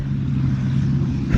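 Steady traffic rumble from cars on a road near a campsite in cold, snowy weather, a continuous low drone throughout with a slight swell near the end as a vehicle passes close.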